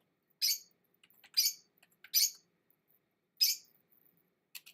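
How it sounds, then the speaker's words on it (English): A pet bird giving a series of four sharp, high screechy calls spaced about a second apart, then a shorter fainter one, close by with silence between. "Bernard, your bird sounds crazy."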